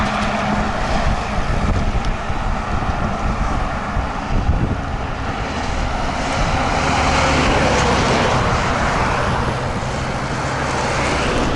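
A jet airliner takes off from an airport, its engines a broad, loud roar heard from a distance, mixed with heavy wind buffeting the microphone and steady road noise.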